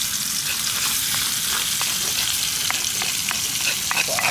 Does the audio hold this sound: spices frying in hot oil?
yes